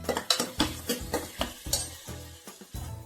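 A spoon stirs and scrapes tomatoes sautéing with ginger and garlic in a pan, a quick run of close metallic clatters and scrapes over a soft sizzle, with no talk.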